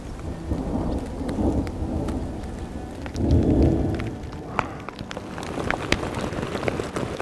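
A thunderstorm dumps hail and rain in open Oregon antelope country, with low thunder rumbling twice among steady patter and sharp impacts of hailstones close by.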